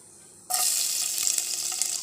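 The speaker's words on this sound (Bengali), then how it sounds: "এখন আমি দুটো শুকনো লঙ্কা দিয়ে দেব তেলের মধ্যে দিয়ে একটু লাল করে ভেজে নেব" Dried red chillies hit hot oil for beef or mutton nihari, bursting into a loud, close, continuous sizzle after half a second of quiet.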